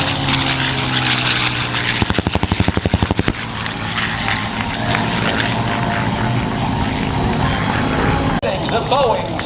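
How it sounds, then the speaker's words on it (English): A P-51 Mustang propeller fighter flies past at the Tampa Bay AirFest air show at MacDill Air Force Base. Its steady engine roar fills the clip, with a brief pulsing throb partway through, and voices are heard over it. "Left, here's Quicksilver and the P-51 Mustang."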